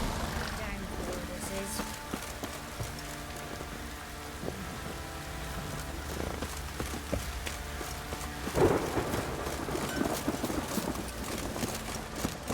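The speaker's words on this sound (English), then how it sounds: "Midges will fight you on account of this downpour." Steady heavy rainfall in The Witcher 3: Wild Hunt hisses throughout, with a faint rumble of thunder and occasional clattering, while people talk over the downpour.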